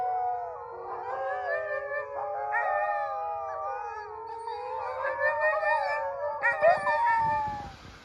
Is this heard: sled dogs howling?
yes